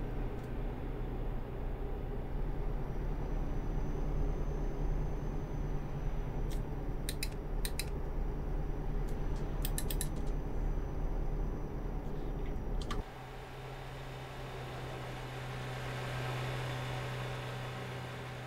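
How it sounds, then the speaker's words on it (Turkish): A truck engine drones steadily in Euro Truck Simulator 2 while driving in Greece, a low, continuous hum with a few brief clicks, shifting to a quieter tone partway through. "Motor sesini dinliyorum 2 saattir."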